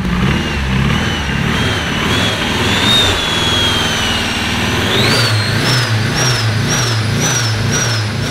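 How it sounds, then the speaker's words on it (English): A 2.4-liter four-cylinder engine in a rear-wheel-drive Honda Civic revs loudly and continuously up close, its uneven, rattly note from a misfire with cylinder 3 not firing, pitch rising and falling across repeated blips. "cylinder 3 is not actually firing, which would make sense why it sounds a little rattled"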